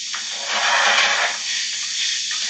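A pound of 80-20 ground beef hits a hot skillet with a loud, close, broad hiss that swells briefly and then settles into a steady sizzle, no voices over it.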